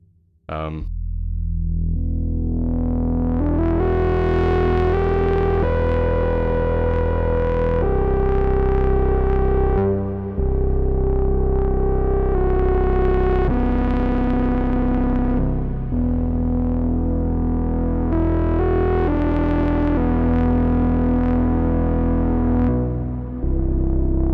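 Moog Subsequent 37 analog synthesizer playing a sustained, rich patch with a long amplitude release, several held chords swelling and fading smoothly into one another, loud and close with no abrupt cutoffs.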